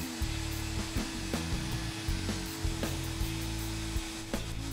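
A router bores full-depth holes into wood at each end of a mortise, its high whine running continuously up close with brief dips and sharp surges as the bit plunges.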